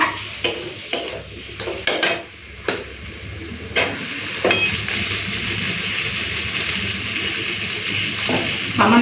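Tomatoes and salt tossed into spiced potatoes frying in a pan, giving a few sharp stirring knocks followed by a steady, loud sizzle and hiss that runs to the end.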